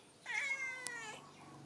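A cat gives one drawn-out, whiny meow up close in a quiet room, with a short click partway through and a soft trailing note afterward.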